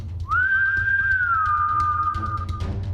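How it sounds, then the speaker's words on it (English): A single long whistle from a person, rising sharply then holding a steady high tone for about two seconds before fading, clear and close over a low background hum. "I raise my left hand and whistle at it."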